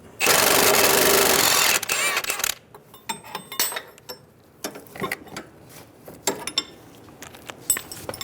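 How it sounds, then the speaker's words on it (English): A socket wrench loosens the sway bar nut on a 2000-2007 Ford Focus during a front strut mount job. A loud burst of mechanical noise opens, followed by fainter, irregular ratcheting clicks and taps close by. "15mm socket to remove the nut."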